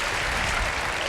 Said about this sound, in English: you can hear this crowd. This crowd went crazy at the end of that point.